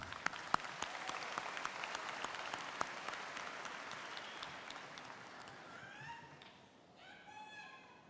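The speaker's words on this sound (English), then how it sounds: "Brief round of applause." A brief round of applause from the crowd at the East High School Class of 2013 commencement, moderately distant and fairly quiet, sharp claps scattered through it, fading out near the end as a few faint tonal sounds appear.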